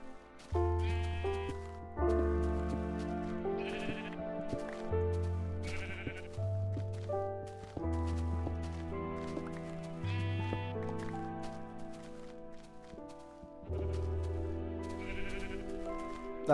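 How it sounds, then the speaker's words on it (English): Sheep in the video game Minecraft bleat a few times over a steady backing of game music, short wavering calls at moderate volume, with no talk. "Hello, sheep."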